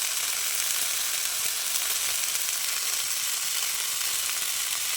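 Cauliflower florets lightly frying in a pan without salt, an even, continuous close sizzle holding steady throughout with faint stirring underneath.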